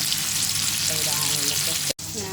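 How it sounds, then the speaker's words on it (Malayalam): Food frying in a pan gives off a loud, continuous sizzle and crackle up close, broken by a brief sharp dropout near the end before the sizzling carries on. "ഞാൻ പൊരിക്കുന്നുണ്ട്"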